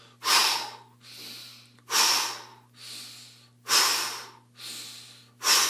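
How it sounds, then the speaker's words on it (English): Forceful, close exhales during a breathing exercise, about six in a steady rhythm roughly a second apart. Strong blasts alternate with softer breaths over a low, constant hum, with no talking. "Strong exhale. Focus on that exhale."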